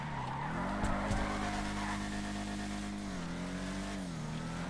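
A Vapid Ellie muscle car drifting in GTA Online, its engine droning loud and steady while tires squeal and the pitch dips and climbs through the slide, no talking over it.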